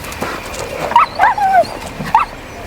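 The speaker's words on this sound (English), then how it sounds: "don't be mean to the wolf/dog" A wolf-like dog in a fantasy TV drama gives a few short, high whimpers and yips in clear, close bursts over a quiet background.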